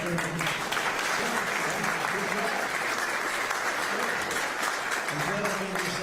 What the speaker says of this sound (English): you didn't hear because of the thunderous applause for Hester